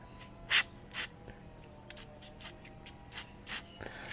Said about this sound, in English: It's some of this white lithium grease, just a spray grease from the WD-40 company.